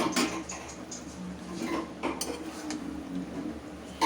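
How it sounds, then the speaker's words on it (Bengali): Chicken, potatoes and spice masala stirred together in a pot for chicken kosha, faint metallic clinks and scraping of a spoon against the pot with a soft sizzling background, no talking. "সব দিয়ে আমি একসাথে কষাবো।"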